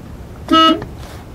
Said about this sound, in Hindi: और इसका हॉर्न